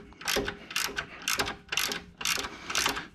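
A hand ratchet tightens a bolt on the belt tensioner of a Can-Am Spyder RT, giving close, steady bursts of rapid metallic clicking in a repeating back-and-forth rhythm.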